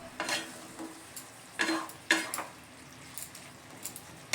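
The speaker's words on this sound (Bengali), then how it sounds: "এবার খুব ভালো করে আমি নেড়ে চেড়ে নেব।" A spoon stirs fried flat beans and eggplant in a pan, with a soft sizzle beneath and several distinct scraping clinks of utensil on metal at irregular intervals, up close.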